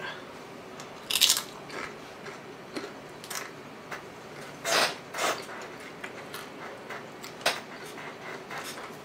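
Sharp crisp crunches from someone eating spicy nacho Doritos chips, a handful of irregular bites heard up close against a quiet room background, with no talking.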